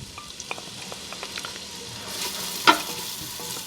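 Onion and garlic sautéing in butter and olive oil, a close crackling sizzle with soft stirring scrapes that swells louder midway, one sharp pop near the end, no talking.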